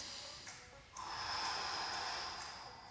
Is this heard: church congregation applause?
no